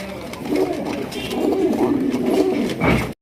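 Pigeons in a seller's loft cooing, a close, continuous stream of soft throaty coos and warbles with faint background voices.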